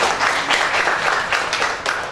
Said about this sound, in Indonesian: Dan tepuk tangan dulu dong buat Anda semuanya.